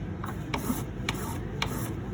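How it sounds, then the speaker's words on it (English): A wedding band is rubbed against 600 grit sandpaper in an even back-and-forth rhythm, close up, with about four soft rasping strokes over a steady scratchy hiss. "So that's now my 600 sandpaper."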